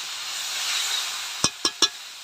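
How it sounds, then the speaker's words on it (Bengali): Water poured into a hot pan of sautéed vegetable curry gives a broad, steady hiss of steam, followed by three quick sharp knocks near the end. "এবার জল ঢেলে দিচ্ছি।"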